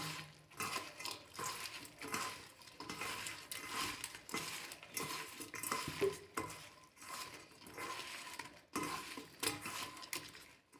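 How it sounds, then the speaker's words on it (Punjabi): Homemade lemon pickle made without vinegar being mixed with a spoon in a container, producing quiet, rhythmic scraping and stirring strokes repeated in bursts, with no talk. "ਚੰਗੀ ਤਰ੍ਹਾਂ ਮਿਕਸ ਕਰ ਲਾਂਗੇ"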